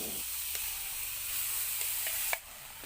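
Ground spice paste sautéing in a hot pan, a continuous loud sizzle broken by a few soft stirring scrapes, then a sudden drop to a quieter hiss near the end.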